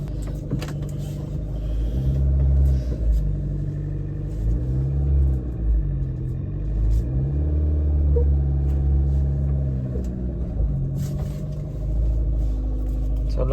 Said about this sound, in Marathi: कार फिरवायची आपल्याला